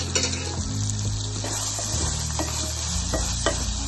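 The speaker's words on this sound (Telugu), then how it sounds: "ఇప్పుడు 1 స్పూన్ అల్లం వెల్లుల్లి పేస్ట్ వేసి బాగా వేయించుకోవాలి." A spoon of ginger garlic paste frying in a pan for sweet corn pulao gives a steady close sizzle with occasional stirring clinks, set against soft background music.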